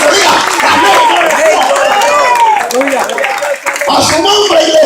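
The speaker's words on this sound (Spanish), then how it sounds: "Fuerte ese aplauso" A church congregation claps loudly and steadily during a service, dense applause blended with voices talking and calling out over it.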